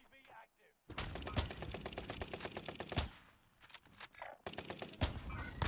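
Video game firefight with rapid bursts of automatic gunfire, loud and close, coming in several strings of rattling shots broken by short pauses, while a voice calls out under the shooting.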